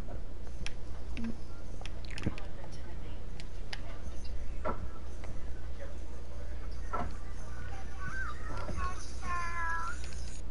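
A cat meows indoors, faint calls rising over a steady low hum and clicking ticks, with people talking nearby.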